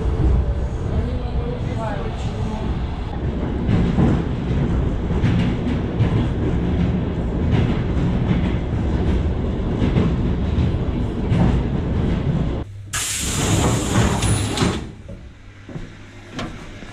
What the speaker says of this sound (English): I'm going to take a local train that runs once a day, only in the morning.